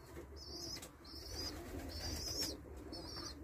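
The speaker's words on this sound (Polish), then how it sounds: "Gołębie zaczęły wchodzić." Homing pigeons at a loft coo in soft repeated phrases, several calls in a row over faint background noise.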